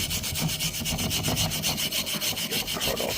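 A flux core weld, made with a Bestarc MIG 145 welder, is scrubbed with a brush in fast, rhythmic back-and-forth rasping strokes that are loud and close, with no talk.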